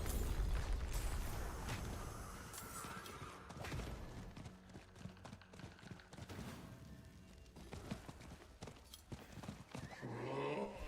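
Horse hoofbeats and a neigh in the Diablo 4 video game, clip-clop steps under layered game effects, booms and music, fairly loud and continuous.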